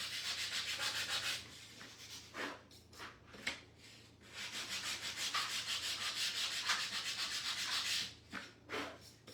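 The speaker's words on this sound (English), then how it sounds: "I'm going to make sure that's sanded off so it paints easier" Sandpaper rubbing paint off a wooden farmhouse-style raised shelf sitter, continuous close scratchy strokes broken by short pauses, then quicker back-and-forth rubs near the end, with no talking.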